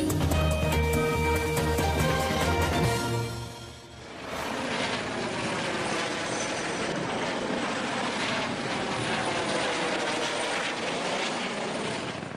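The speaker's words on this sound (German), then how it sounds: "Formationsflug mit 10 Hubschraubern" Ten police helicopters flying in formation, engines and rotors roaring steadily nearby, a high whining tone first fading into a broad, constant rumbling wash of blade noise.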